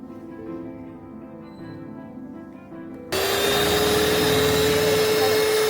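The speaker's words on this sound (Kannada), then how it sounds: "ಜಸ್ಟ್ 1 ನಿಮಿಷ ಬ್ಲೆಂಡ್ ಮಾಡಿ ತೆಗೆದ್ರೆ ಸಾಕು" An electric mixer starts up and blends red velvet cake batter with flour in the kitchen, running as a loud, steady whine that begins abruptly partway through after quieter background rumble.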